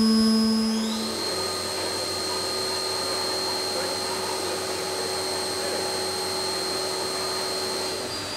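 Machinery running steadily in a machine shop where a hexapod-structure CMM is kept, a loud continuous whine and hum that holds evenly throughout with a pitch shift near the start.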